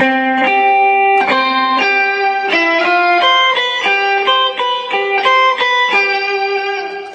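Electric guitar through a whammy pedal set to add an octave above, playing a melodic line, bright and steady notes changing every half second or so, no talking.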